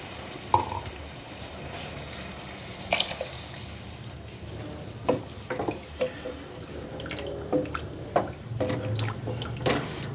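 Water poured into a pan of potatoes and peas for a home-style aloo matar curry, with several short splashy pours and drips scattered across the clip, fairly close but soft.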